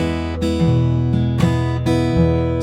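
Acoustic guitar plays a short country blues phrase resolving back to E, with a few plucked notes and alternating bass, clear and close.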